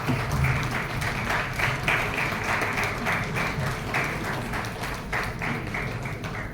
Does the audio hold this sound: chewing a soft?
no